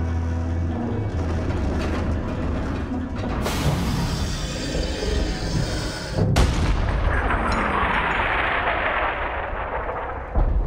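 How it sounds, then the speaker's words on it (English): A big cannon in Borderlands 3 fires with heavy booming blasts and rumbling explosions, loud and close, the roar sustained across several seconds with a sharp crack midway and another impact at the end; no talking. "Load up the cannon so we can savor the sweet taste of vengeance."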